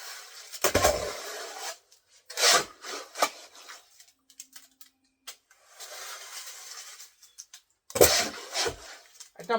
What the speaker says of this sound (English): So I dump this in there gently.